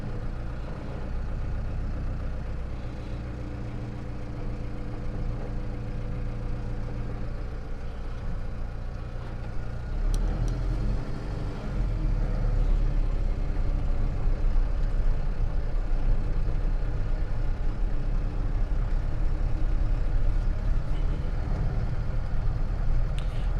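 A Mahindra Roxor turbo diesel runs a low, rumbling engine at idle, then grows noticeably louder and heavier about halfway through as it reverses, with no voices.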